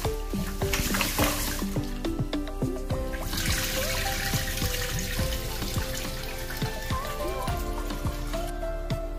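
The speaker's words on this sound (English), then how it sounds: "Then we rinse it again for the second time." Rice being rinsed in water for a second time, with steady splashing, swishing and trickling of water against the grains in a bowl, close and continuous throughout.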